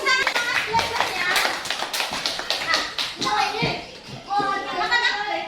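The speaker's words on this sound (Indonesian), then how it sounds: "Tepuk tangan belajarnya." Children clapping together in a classroom, a quick burst of close, uneven hand claps mixed with kids' voices and chatter throughout.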